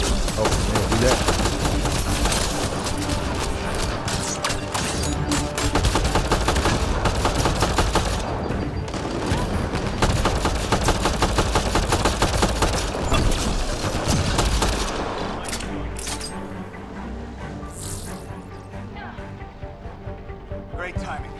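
Sustained gunfire in Mass Effect: Andromeda, dense rapid rattling shots layered with combat effects and music for most of the stretch before easing off, with voices speaking over the fight.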